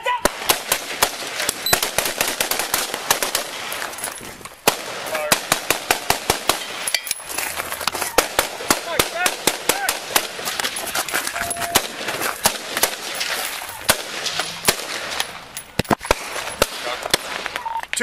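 Gunfire during a police shootout with murder suspects, rapid loud cracks in irregular volleys and long strings of shots, close and continuous, with shouting mixed in.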